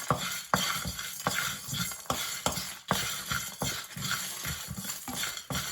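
Coriander seeds dry-roasting in a pan for chicken curry, heard as a continuous rustle and light sizzle broken by regular scraping stirs and spoon taps about every half second.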